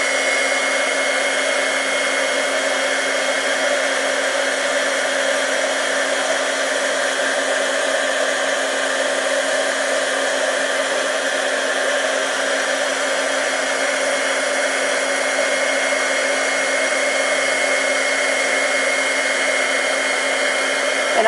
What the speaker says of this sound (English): So let's just go ahead and get this heat embossed.